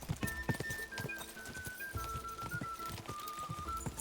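A horse gallops in Kingdom Come: Deliverance II, with steady, rapid clip-clop hoofbeats close by, along with a faint, sustained tone and light ambient sounds.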